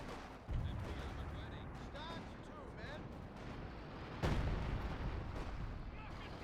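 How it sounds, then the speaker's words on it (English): Rapid crackling gunfire and booming grenade blasts in a World War II real-time strategy match with a 6-pounder gun, steady dense battle noise with a louder burst midway, under a commentator's voice. "Grenade barrage here, fire from the officer."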